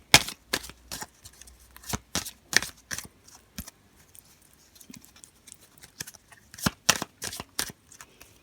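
Lenormand oracle cards being shuffled and cut by hand, a run of sharp, close riffling and slapping bursts in an irregular rhythm with quiet gaps between them, and no talk.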